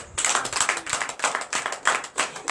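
A church congregation claps steadily for a couple of seconds during a night service, dense broadband hand claps with a lively, uneven rhythm and no voices over them.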